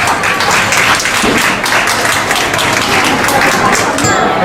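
Steady applause rises from the audience at an awards gala, a broad wash of clapping held at constant strength, with some speech mingled in the crowd noise.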